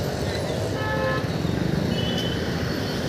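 Horns honk in traffic as a car horn sounds in short bursts over busy road noise and a passing motor, with some voices in the background.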